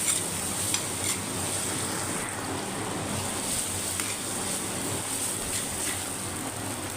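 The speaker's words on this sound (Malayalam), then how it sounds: "ഇളക്കി കൊടുക്കുക." Fish curry with turmeric powder stirred in a pan, an even frying hiss with soft scraping strokes of the spoon running throughout, close and steady.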